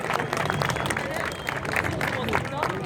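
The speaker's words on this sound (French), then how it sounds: "Mesdames et messieurs, vos applaudissements pour Taka." Spectators at a motocross and wheelie show in Pecquencourt applaud and cheer for rider Taka Yashino, dense clapping mixed with crowd noise and babble, loud and continuous throughout.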